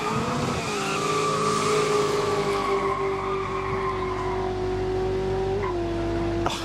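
Drag racing car at a no-prep street event: the engine holds a loud, sustained roar while it pulls through the gears, tyres chirping and squealing with it, and a brief chirp lands near the end.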